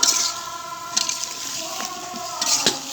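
Fish broth is poured into a pan of wax gourd curry, giving a steady watery splash and gurgle with a few louder sloshes, alone without talk.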